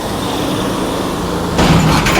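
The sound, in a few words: container trucks driving out of the terminal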